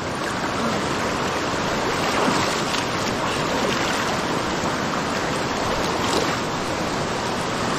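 Fast-flowing high river water rushes in a dense, continuous roar during heavy rain, loud and steady without pause.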